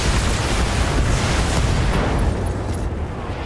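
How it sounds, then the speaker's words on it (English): Loud, dense rumbling blasts of autocannon ammunition exploding in a mech combat video game, a continuous booming roar that thins slightly toward the end. "we did a lot of AC-10 ammo explosions"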